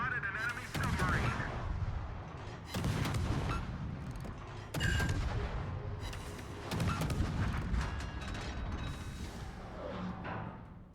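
Naval artillery in the World of Warships video game fires repeated booming salvos at irregular intervals, with mechanical clanks and game voice callouts mixed between the shots.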